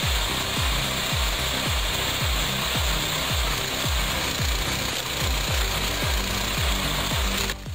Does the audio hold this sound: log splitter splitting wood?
yes